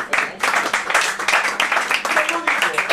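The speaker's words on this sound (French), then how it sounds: "vous pouvez l'applaudir" An audience applauds with brisk, dense clapping that holds steady through a few seconds, with a voice talking over it.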